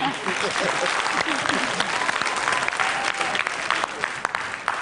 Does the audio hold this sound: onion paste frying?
no